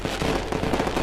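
Diwali firecracker blasts crackle densely for about a second, loud and continuous, with sharp repeated bursts packed close together.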